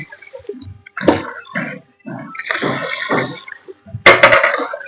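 Water splashes into a pot of curdling milk being made into chhena in a few uneven bursts, close by, with short quiet gaps between them.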